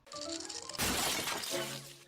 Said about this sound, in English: he shoots the ball down the hoop, and it goes all the way down into Bugs's hole and smashes his bathtub